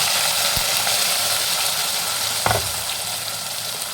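A pan of ground masala paste with curry leaves sizzles and fries steadily and loudly, with a couple of brief clanks of a utensil stirring.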